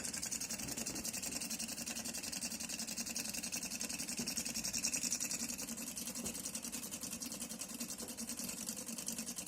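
A small Stirling engine runs steadily at close range, a continuous mechanical whir with a soft rhythmic ticking that holds even throughout, no voices over it.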